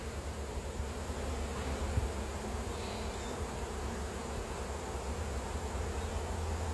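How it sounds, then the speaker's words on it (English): Honeybees buzz steadily around open beehives on a deck while honey is being pulled, a dense continuous drone at moderate level with no talking. "There's a lot of bees on the deck."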